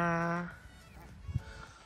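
A goose or duck honks at a lake in Finland, one long loud call in the first half second, followed by a few faint rustles and bumps in quiet outdoor air.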